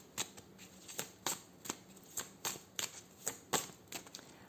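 A deck of cards is shuffled by hand in quiet, repeated riffles, about a dozen crisp flicking bursts at an even rhythm, close and soft, with no talking.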